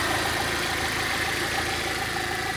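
A 1.8-litre turbocharged Audi engine idles steadily under an open hood, giving a continuous close mechanical hum with a faint ticking rhythm and no voices over it.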